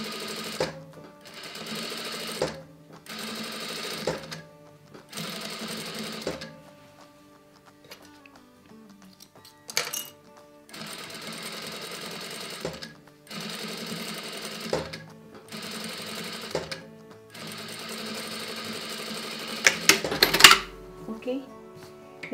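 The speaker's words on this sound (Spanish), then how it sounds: "aquí cosemos igualmente el otro lado de la cinta" A sewing machine runs in steady whirring bursts as it stitches ribbon onto a corset pattern, stopping and restarting several times, close and prominent, with a short clatter near the end and no talking.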